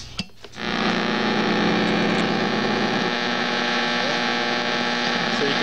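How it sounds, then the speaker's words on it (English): A 1966 Chevelle AM radio gives a loud, steady electrical hum with a buzzing, slightly distorted static texture while being tuned, following a brief click at the start. "So you can hear some vague channels coming in here"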